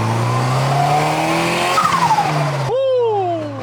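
A turbocharged BMW M43 four-cylinder in a 316i/318i pulls hard at half throttle, its steady engine drone climbing in pitch. Near the end a sharp, falling whistle cuts through as the throttle lifts.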